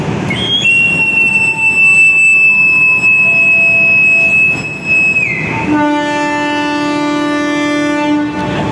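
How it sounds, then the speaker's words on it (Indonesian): A Jaka Tingkir economy New Generation passenger train pulls out of Lempuyangan station, with a long, loud, sustained horn blast, then a shift to a lower multi-tone horn, over constant rumbling rail and carriage noise close by. "kereta api Jaka Tingkir berangkat stasiun Lempuyangan."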